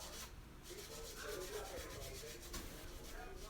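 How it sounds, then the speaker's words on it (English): Gentle scrubbing with a toothbrush along the sides of a slide: soft, close, continuous bristle rubbing with a quick back-and-forth rhythm, faint and alone. "we're just scrubbing along the sides of it"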